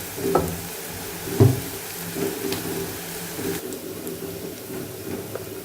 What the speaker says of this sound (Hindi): अभी हम इसे आहिस्ता आहिस्ता से हिलाते जाएंगे जब तक इसका ब्राउन कलर नहीं आएगा